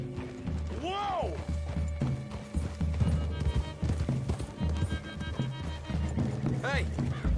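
Horses' hooves clip-clop in a western-style video game, a steady trotting patter running throughout under layered talk, game music and mechanical clatter, with a brief whinny-like cry near the start and end.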